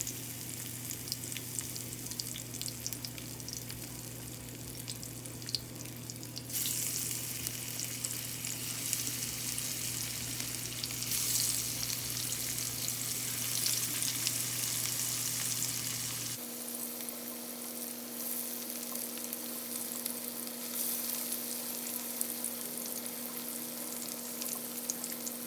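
Potatoes frying in a skillet on the stove for a one-pot chicken and potato dish, a steady broadband sizzle throughout with a low hum beneath that drops away partway, no talking.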